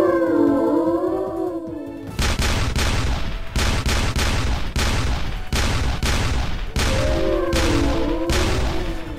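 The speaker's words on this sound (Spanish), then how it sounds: "Una nave extraña está disparándonos" A strange ship fires a rapid barrage of loud, booming shots in repeated bursts, with a droning hum running beneath and between the volleys.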